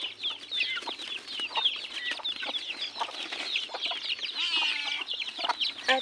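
Chicks and their mother hen are close by, with busy high peeping from the chicks and soft clucks from the hen repeating throughout at moderate volume.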